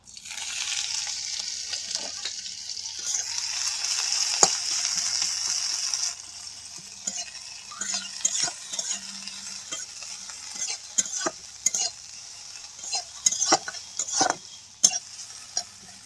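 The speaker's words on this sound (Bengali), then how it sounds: "ফোড়ন ভাজা হয়ে গেছে এবার দিয়ে দেবো পেঁয়াজ কুচি" Chopped onion hits hot oil with panch phoron in a kadai for a sour raw-mango fish curry, giving a steady loud sizzle with a brief sharp addition burst, then quieter frying broken by repeated scraping stirs and clinks, no talking.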